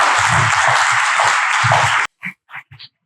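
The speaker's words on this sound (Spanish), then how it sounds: "Un aplauso, por favor" A seminar audience claps for about two seconds, a loud, close, even patter of many hands. The applause cuts off abruptly, and a few short spoken syllables follow in near silence.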